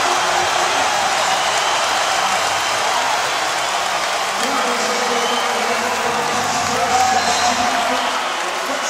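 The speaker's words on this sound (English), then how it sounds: "And this crowd is alive." Arena crowd at a Kansas vs Arizona State NCAA basketball game, a dense steady roar of cheering and noise filling the whole stretch at constant loudness, with no single voice standing out.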